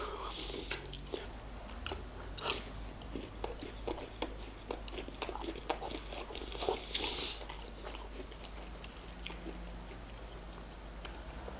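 Crunchy biting and chewing of a McDonald's chicken nugget dipped in sweet and sour sauce, with repeated close crisp bites and wet mastication over about eleven seconds, no talking.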